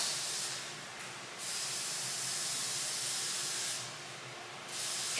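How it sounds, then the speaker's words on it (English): Room spray is misted around an apartment as a continuous airy hiss, with two brief, harsher bursts standing out, close and fairly soft. "I'm gonna spray my house."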